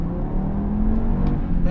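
An Audi engine, from either a first-generation R8 V8 or a Mk2 TT RS, pulls hard under acceleration with a steady low drone and a rising tonal hum heard from inside the cabin, mixed with a voice talking.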